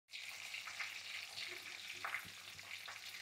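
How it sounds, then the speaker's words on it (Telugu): Dry red chillies, curry leaves and asafoetida sizzle in hot tempering oil, a steady, soft frying hiss with small crackles that runs throughout without any talking. "ఎండుమిర్చి వేసేస్తాను. కరివేపాకు, ఇంగువ, మెయిన్ ఇంగువ ఉండాలండి."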